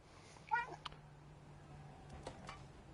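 A cat meows once in the video game Stray, a short clear call followed by a couple of faint softer sounds over low background hum.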